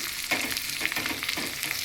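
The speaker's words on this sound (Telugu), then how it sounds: "ఇప్పుడు కరివేపాకు వేస్తున్నాను." Curry leaves frying in hot tempering oil with shallots and seeds, a close, lively sizzle with crackling bursts and the scrape of stirring over about two seconds.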